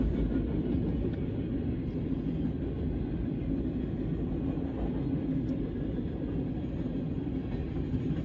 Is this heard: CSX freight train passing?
yes